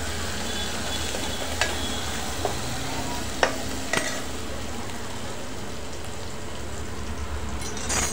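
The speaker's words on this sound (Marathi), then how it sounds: "ते तेलात असं छान परतून घ्यायची" About ten or twelve fenugreek seeds fry in hot oil in a pan with a steady close sizzle. A few sharp pops and spoon taps sound over the crackle.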